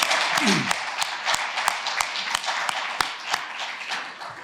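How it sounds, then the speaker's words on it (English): Audience applause after a student performance at a closing ceremony, with a few sharp, distinct claps standing out over a softer, steady background of clapping. "So let's give her a round of applause."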